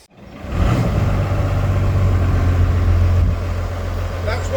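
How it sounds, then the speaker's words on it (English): A diesel engine in an M8 Greyhound armored car starts and runs with a steady low rumble that holds loud and even, then eases slightly near the end. "That's why we like a diesel engine. It starts most of the time straight away."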